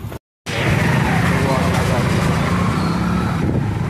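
Heavy road traffic with a car driving through a crowded street, a loud continuous engine and road rumble that starts after a brief silent gap and holds steady.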